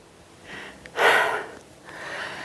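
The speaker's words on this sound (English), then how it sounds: "Excuse me, heavy breathing." Heavy, gasping breaths of a person climbing a steep hill above a campsite, a few close, loud huffs and exhalations with one strong rasping breath in the middle and no talking.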